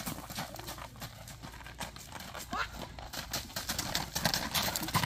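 A tall horse is walked, its hooves clip-clopping in an uneven rhythm close by while people talk and birds call in the background.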